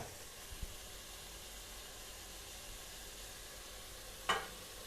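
Spices, garlic and onion sauté in a pan with a faint, steady sizzling hiss, marked by a soft knock early on and a sharp clink near the end.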